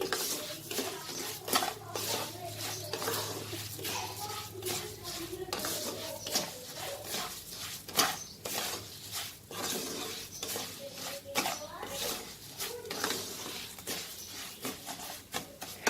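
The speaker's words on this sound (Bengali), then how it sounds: "চালটা ভাজতে ভাজতে দেখুন খইয়ের মতো সাদা হয়ে যাবে" Rice dry-frying in a pan for a Bengali chal potol dish, giving steady scraping and clinking of a spatula stirring against the metal, close and continuous for the whole stretch.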